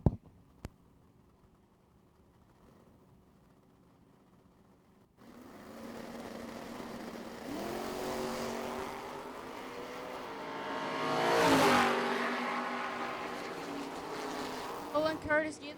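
Drag race pass between a 1979 Mustang and a 1969 Camaro at a summer shootout event. After a quiet hum, a steady engine roar starts, swells to a loud peak and then fades, sounding somewhat distant.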